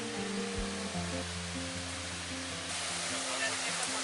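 Rushing water at Helton Creek Falls in the Chattahoochee National Forest, north Georgia, a steady broadband roar heard close and continuous, with faint low tones mixed beneath it.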